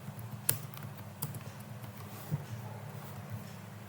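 Computer keyboard keys are tapped sparsely as variables are typed in, a few distinct clicks over a low steady hum.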